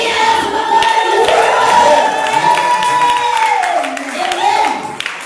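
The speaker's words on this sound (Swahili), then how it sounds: "Pigia Yesu makofi." A church congregation claps and cheers together for Jesus during a sermon, a loud sustained burst of crowd applause with voices rising over it, fading slightly toward the end.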